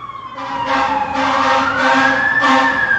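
A loud wailing siren, close and continuous, its pitch rising and falling in repeated sweeps with no talking over it.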